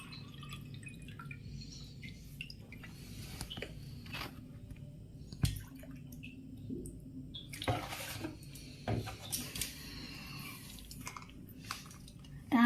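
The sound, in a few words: water being poured into a glass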